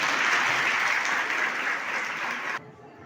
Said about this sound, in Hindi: जोरदार तालियां हो जाए इसके लिए।